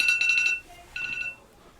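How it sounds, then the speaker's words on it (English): An alarm goes off in two bursts of rapid, shrill electronic beeping, moderately loud and close, with a short pause between them and no voices. "It's because it's an alarm. And alarms break through all the mutes, don't they?"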